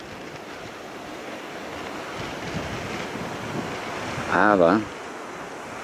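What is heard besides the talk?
wind and waves on the coast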